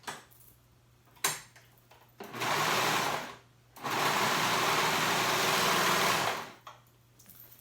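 A sewing machine stitches shoulder seams on a top's liner and outer fabric, running in two long steady bursts with a short pause and brief start-stop whirs between them, close and loud.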